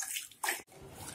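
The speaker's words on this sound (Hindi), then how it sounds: "तो हम क्या करेंगे, इसे लस्सी को अच्छे से ऐसे फेंटेंगे" Lassi is churned by hand with a wooden churner in a pot, giving short wet sloshing and swishing bursts, close up with a brief pause in the middle.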